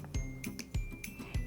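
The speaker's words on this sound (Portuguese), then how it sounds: "Esse é o som que a campainha faz." A small bell gives a few quick metallic dings, each a bright clink with a short ringing tail, close and fairly soft.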